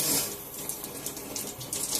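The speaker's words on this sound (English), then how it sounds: "Now the key here is to run the water until the citric acid comes through" Water runs steadily from the spouts of an ionizer faucet tap, a continuous close splashing hiss with slight surges and no talk.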